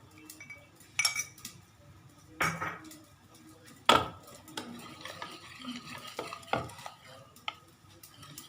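Custard cake batter with cherries and flour being mixed in a bowl, a spoon scraping and clinking against the sides in irregular strokes, with several sharper knocks standing out, close and without talk.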